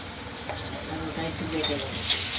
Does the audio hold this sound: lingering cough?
no